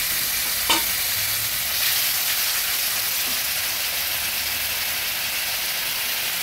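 Cumin and coriander powder mixed with water goes into a hot frying pan for a Bengali tengra fish curry, giving a loud, steady hiss of sizzling oil with a brief splash-like burst early on.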